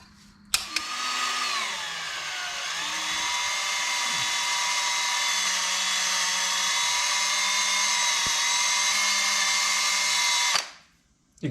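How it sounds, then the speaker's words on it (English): A power drill with a soft bristle brush attachment spins up and runs steadily at high speed with a whining, buzzing tone, then cuts off near the end. "I just use a soft bristle drill attachment brush."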